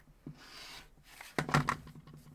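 Quilt fabric half-square triangles are trimmed at close range: a faint scrape comes first, then a brief burst of cutting and rubbing sounds in a quiet room.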